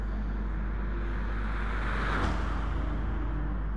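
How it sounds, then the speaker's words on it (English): A Chevrolet V8 race car engine at an endurance race roars steadily throughout, swelling louder as the car passes close by around the middle, then easing slightly as it moves away. "listen to that Chevrolet V8 there"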